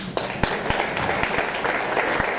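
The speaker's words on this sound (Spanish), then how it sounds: "¿Le das un fuerte aplauso?" A church congregation applauds with steady clapping from many people filling the room, and a few sharper claps stand out near the front.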